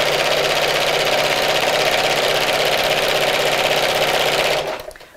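A sewing machine stitches a Christmas gift sack in a fast, even, loud mechanical whir with a steady rhythm, close by, then slows and stops near the end.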